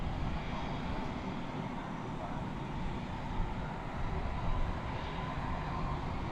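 An airliner at DFW Airport during a nighttime takeoff, a steady broad jet engine roar heard from a distance that holds fairly constant with slight swells.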